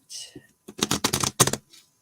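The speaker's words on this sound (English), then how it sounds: "Last shuffle." A worn deck of reading cards is shuffled by hand, a short riffling burst of quick crisp flutters close by, preceded by a soft brief rustle.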